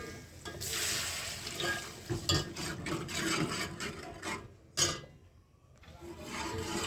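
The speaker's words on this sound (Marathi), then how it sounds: "तांदूळ टाकलं सारखं हलवत राहायचं नाहीतर ह्यात गाठी होती" Ground rice with khoa and ghee is stirred in a pan for rice kheer, a soft scraping, rubbing sound in uneven strokes with brief pauses, close and fairly quiet.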